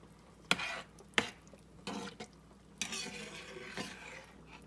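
A spoon works spices and seasonings through a cheap weeknight dinner mixture in a pan, giving a few sharp scrapes and clacks over a steady low sizzle, close and moderately loud, with no talking.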